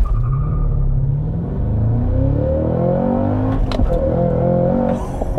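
A 2022 Cadillac CT5-V Blackwing with a six-speed manual launches and accelerates hard in sport mode, its engine note rising in a loud, close roar across the run, with sharp transient bangs near the end.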